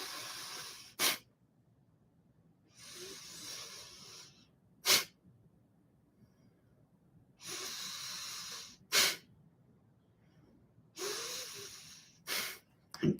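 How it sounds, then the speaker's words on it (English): Forceful Kapalbhati breath-of-fire exhales through the nose come as sharp, close, snorting bursts alternating with longer hissing breaths, repeating in a loose rhythm with quiet gaps between. "so sometimes I just try and do the inhale and the exhale through my nose"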